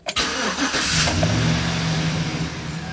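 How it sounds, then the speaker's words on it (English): A 2010 Chevy Silverado pickup engine cranks and catches with a quick rev, then settles into a steady, close rumbling idle. "I'm gonna start the truck."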